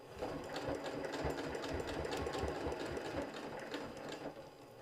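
A sewing machine stitches slowly through thick fabric with a standard needle, running steadily and close up with a rhythmic mechanical chatter throughout, no voices.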